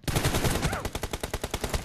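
Rapid automatic gunfire in the BGMI video game, a dense rattling burst of closely spaced shots, loud and near, running almost continuously for about two seconds with a brief pause near the end.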